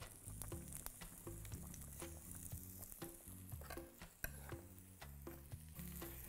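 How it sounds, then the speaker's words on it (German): Apples sizzle steadily in a hot frying pan, with scraping and clattering from stirring throughout. "In der Zwischenzeit braten die Äpfel."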